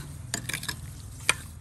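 A ladle stirs sugar into an iced dessert mixture for Thai-style chè, a few soft scraping swishes and one sharper clink close by, fairly quiet, with no talking.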